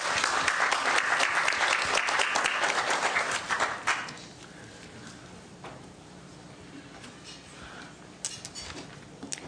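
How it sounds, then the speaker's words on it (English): A hearing-room audience applauds the panelists at a Senate education committee session, a brisk burst of clapping for about four seconds that stops abruptly, followed by quiet room noise and a few faint knocks. "Let's give a round of applause to these panelists."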